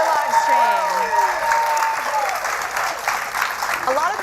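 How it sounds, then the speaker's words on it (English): A live audience at the 2016 Victoria's Secret Fashion Show in Paris claps for two women models in a loud, sustained burst of applause, with cheers and voices blending through it. "Let's give the ladies a round of applause for working out on the live stream."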